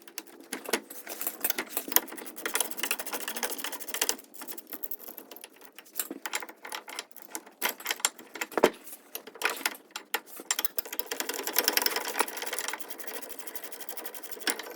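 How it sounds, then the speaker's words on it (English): A ratchet works loose the brake caliper bracket bolts on a Ford Focus, producing a fast, continuous clicking and rattling close by, with short pauses and bursts over about fifteen seconds and no talking. "Let's try a bigger ratchet and a bigger socket."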